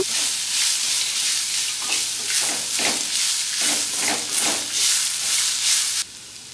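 Spices with a pinch of turmeric and grated amla fry in a pan, sizzling loudly and close with rhythmic stirring scrapes until the sound drops away near the end.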